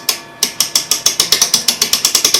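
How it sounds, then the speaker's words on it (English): A ratchet winder tightens a clock barrel mainspring in a quick run of about fifteen crisp, evenly spaced clicks, loud and close with nothing else audible. "Now wind the spring up tightly until you can slip the sleeve off."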